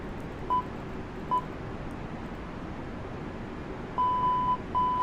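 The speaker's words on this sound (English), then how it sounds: "that is the nose speed alarm" Cockpit alarm in an Airbus A320neo in Microsoft Flight Simulator 2020, sounding as short, clear electronic beeps: two single beeps early on, then a longer run of repeated tones near the end over a steady low cockpit hum.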